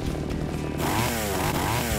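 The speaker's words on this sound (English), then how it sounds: "there's the chainsaw" A loud, revving chainsaw in the horror brawler Splatterhouse snarls continuously for a couple of seconds, its pitch rising and wavering with no talk over it.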